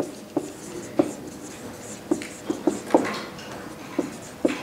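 Writing on a board during a biochemistry lecture, sparse sharp taps and short scratchy strokes spaced irregularly over a quiet room hum.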